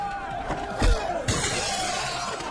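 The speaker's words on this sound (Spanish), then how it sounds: "patadas voladoras rompieron el vidrio de un carro" Car window glass shatters under a flying kick during a fight, a sharp crash with a heavy thump just before it and a second impact burst after, set against a busy backdrop.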